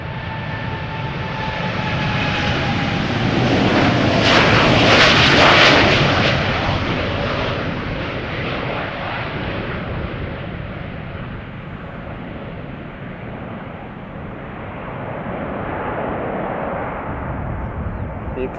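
An American Airlines jet airliner bound for Philadelphia roars at Schiphol Airport, its engine noise swelling loud near the middle, then fading to a lingering rumble as a voice talks over it.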